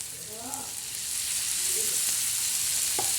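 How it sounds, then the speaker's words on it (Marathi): Sliced bitter gourd sizzles steadily as it is stirred in a hot pan, with a dense, close frying hiss that grows louder after the first second. A few soft scrapes of the spoon come through, and no one speaks. "हे बघा कारले टाकून द्यायचे छान असं हलवायचं परतायचं"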